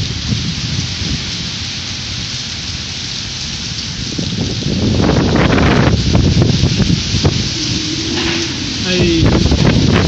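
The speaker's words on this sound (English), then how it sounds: "the wind is getting stronger" Strong typhoon wind during Typhoon Glenda, a dense roaring gust noise with heavy rain buffeting the microphone, growing louder midway, with a person talking over it.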